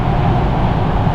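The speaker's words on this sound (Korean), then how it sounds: "풍절음도 많이 들리죠." Steady, dense rushing noise inside a moving SsangYong Rexton Sports Khan pickup truck, wind and road roar blending into a constant low hum with no voices.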